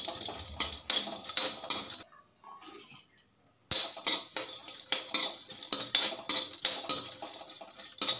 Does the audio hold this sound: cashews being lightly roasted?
yes